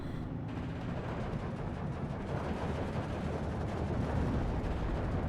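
Artillery fire rumbles in Steel Division 2, a dense, continuous barrage of booms and blasts blending into a heavy roar at mid distance.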